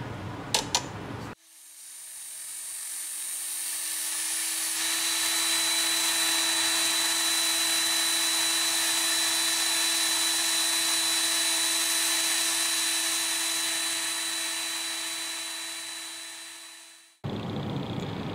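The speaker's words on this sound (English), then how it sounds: "Now I'm going to put the bevel on her with the knife and tool sharpener, the Ken Onion edition." A Ken Onion edition knife and tool sharpener grinds a bevel onto a fillet knife made from an old kitchen blade, giving one steady high whine that lasts about fifteen seconds, close and alone, with clicks as it starts and stops.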